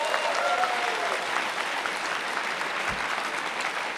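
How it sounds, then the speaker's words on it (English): An audience at a live campus show at the University of Michigan breaks into loud, even applause, a thick steady clatter of many hands with a faint voice briefly audible underneath. "Show of hands, a round of applause."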